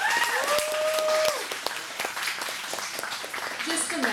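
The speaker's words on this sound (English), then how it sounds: "we please give a round of applause to just all of the first years in creative writing" An audience applauds first-year creative writing students at a reading, a steady wash of clapping with a voice speaking over it and a few sharper claps near the start.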